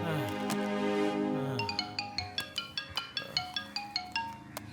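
A phone ringtone for an incoming call in a Hindi police drama, a melodic chime repeating in short, evenly spaced bursts, with a sustained tone at the start, fairly close and clear, and no talk over it.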